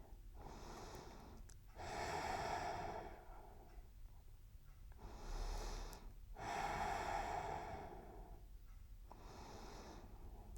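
Slow, deep yoga breaths at close range, two long audible inhales alternating with softer exhales in an even rhythm, airy and quiet, with no talking.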